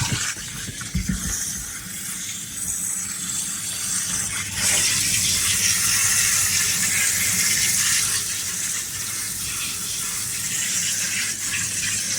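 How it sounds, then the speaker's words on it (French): Running water gushes steadily as trays are rinsed, a loud continuous splashing hiss that intensifies partway through and carries on without pause. "Très important de bien nettoyer, bien rincer tous les cabarets."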